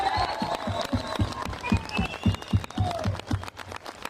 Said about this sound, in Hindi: एक बार नांदेड़ की ताली लगनी चाहिए